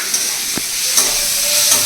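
Roasted, shelled peanuts are added to a frying pan of turmeric-seasoned vegetables. A loud, steady sizzle fills the clip with a few faint stirring clicks and no talking.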